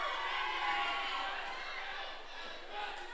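A large wrestling arena crowd roars steadily at a six-man tag match, a dense, loud wash of booing and shouting voices that holds throughout with slight swells, and no clear single voice on top.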